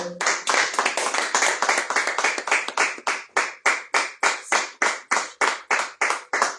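A church congregation at a worship service claps in unison, sharp rhythmic hand claps at a brisk, steady pace filling the room.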